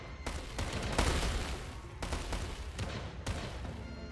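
Cannon fire in a strategy video game with Western Asian cannons, several heavy booming shots landing at irregular intervals over a constant rumble of battle.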